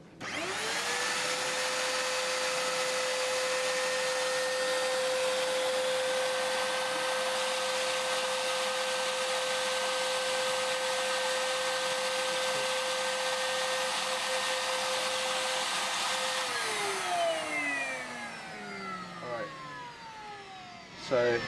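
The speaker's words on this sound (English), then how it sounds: "going to turn on the vacuum cleaner, which will suck all the air out the bottom" A vacuum cleaner motor used for vacuum forming spins up and drones steadily at a constant pitch, then winds down near the end with a falling whine.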